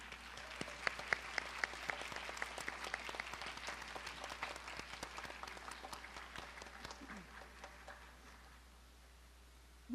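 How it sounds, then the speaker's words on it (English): Hall audience at a Bharatanatyam arangetram claps for the mridangam player, a thin scattering of hands at modest level that thins out and fades toward the end. "Can we get another round of applause for our Mridangist?"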